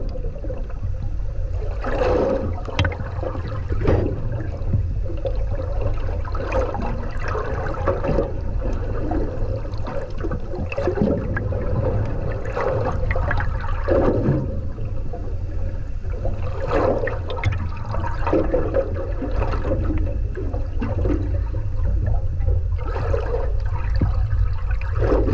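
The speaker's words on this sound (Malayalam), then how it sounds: "ആ ഒരു കടലിൻ്റെ അടിയിൽ ആ ഒരു സൗണ്ടും കാര്യങ്ങളൊക്കെ കേൾക്കണമെന്നുണ്ടെങ്കിൽ" Deep-sea water heard from below the surface on a fishing trip, a continuous muffled rumble with gurgling and whooshing surges that stays loud and steady throughout, with no voices.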